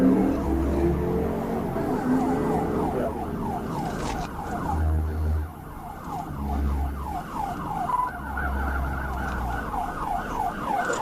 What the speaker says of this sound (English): failing to comply with a stop signal despite units behind activating lights and sirens